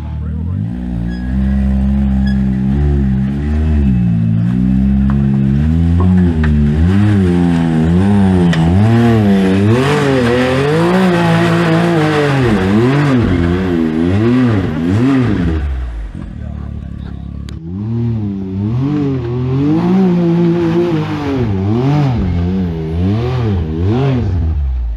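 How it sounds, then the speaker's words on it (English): An off-road vehicle climbing a trail at an ORV park, its engine and exhaust rising and falling in repeated loud revs, then easing off briefly before pulling hard again, with people talking over it. "That thing sounds so good. I love this exhaust."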